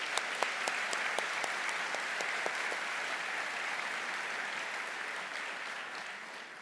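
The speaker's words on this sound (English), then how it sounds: "Please help me in giving them a warm round of applause." A graduation ceremony audience applauds a wind and percussion ensemble, a broad, sustained clapping from many hands with a few sharp claps standing out near the start, slowly fading at the end.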